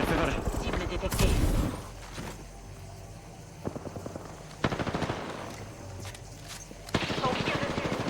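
Gunfire in the battle royale video game Apex Legends, rapid bursts of automatic weapon fire and loud shots in several volleys, with game sounds and brief voice lines between them.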